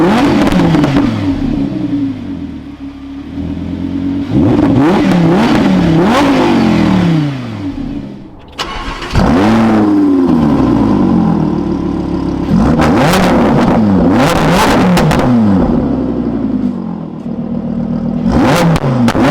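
Audi R8 V10 supercar pulling away and accelerating hard, its engine note climbing through repeated rising sweeps with a short dip in the middle as it shifts, loud and close.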